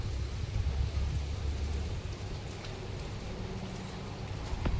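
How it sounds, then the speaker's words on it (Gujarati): Steady rain falling outdoors on a dark evening, a dense even hiss with low rumbling underneath, continuous and unbroken throughout. "તો વરસાદ તો છે ને રેડે ચાલુ છે."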